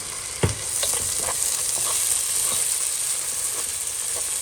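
Chopped green chillies and tomato sizzle steadily in a hot pan while being stirred, with a sharp spoon knock near the start and then light scraping taps over the continuous frying hiss.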